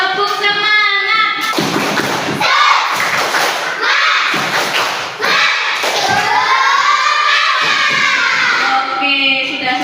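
Primary schoolchildren in a classroom perform the tepuk semangat clapping chant together, mixing loud rhythmic claps and thumps with shouted, chanted voices that run on without a break.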